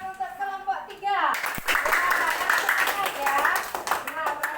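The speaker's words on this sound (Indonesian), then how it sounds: "Kasih tepuk tangan untuk kelompok 3" Students in a classroom clap for their group. A short voice comes first, then sustained group clapping with scattered voices over it.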